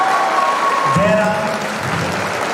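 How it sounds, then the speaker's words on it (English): An audience applauds steadily at a college of pharmacy's National Pharmacy Week celebration, a continuous wash of clapping in a hall with a faint tonal hum beneath it. "Please give them a great round of applause."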